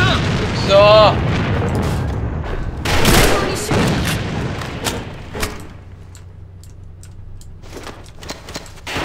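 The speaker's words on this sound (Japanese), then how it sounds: "手榴弾手榴弾敵から攻撃された" Grenade explosions in the online shooter AVA: a couple of loud broadband blasts amid scattered gunfire and battle noise, tapering to quieter sporadic shots, with players talking over the action.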